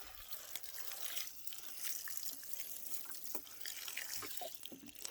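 Water poured onto a potted red cabbage plant, a soft, close trickle and splash of liquid with scattered drips, fairly faint and continuous.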